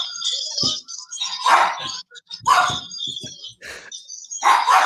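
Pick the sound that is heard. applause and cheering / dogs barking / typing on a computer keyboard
dogs barking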